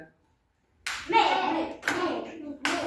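Children clap their hands in a classroom number game, three sharp bursts of group clapping, close and loud, with a few young voices mixed in.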